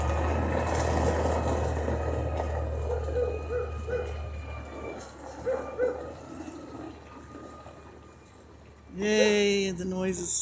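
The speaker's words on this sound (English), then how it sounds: "It's just a trash truck." A trash truck idles nearby with a steady low engine drone under faint background noise. A short, loud animal cry breaks in near the end.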